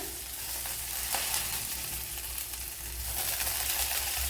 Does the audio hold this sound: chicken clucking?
no